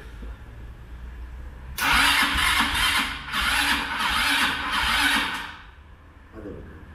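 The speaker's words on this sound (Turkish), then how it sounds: "marş şöyle güzel bir dönse çalışır" ATV starter motor cranking the engine on a single start attempt with a weak battery: a loud, rhythmic whirring crank for about five seconds that stops without the engine catching.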